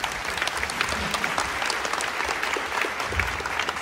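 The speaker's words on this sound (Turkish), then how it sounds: "Sahnedeki herkesi alkışlayalım." Audience applause at a dance recital in Bursa, a dense, steady clapping from a full hall that holds at even loudness throughout, with no talking over it.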